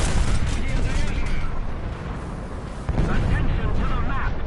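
In the War Thunder tank game, with an IS-1 tank in view, heavy gunfire and booming blasts rumble throughout, loud and dense, while someone talks over the battle noise.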